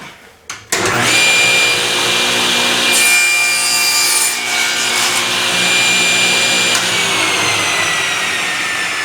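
A power saw rips through thin plywood about an eighth of an inch thick, a loud continuous buzzing cut that starts abruptly and runs steadily to the end.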